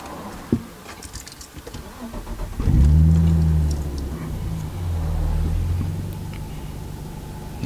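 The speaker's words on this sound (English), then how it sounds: "you can see it searching for the right idle rev" A Nissan R34 Skyline engine fresh from an ECU swap cranks and fires, then settles into a loud close idle whose revs rise and dip as it hunts for a steady speed.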